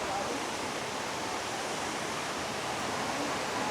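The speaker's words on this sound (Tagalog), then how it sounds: "Palakas na ng nagaslas ng tubig." Rushing river water roars steadily near a bridge, a loud, continuous broadband wash filling the whole stretch without a break.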